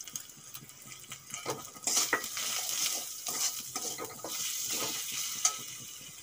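Ground spices (coriander, chilli, cumin, turmeric, Kashmiri chilli powder) and salt fry in oil in a pan for a raw fish curry, with a steady sizzle and repeated scraping stirs of a utensil against the pan.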